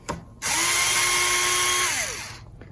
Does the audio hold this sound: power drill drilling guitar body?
yes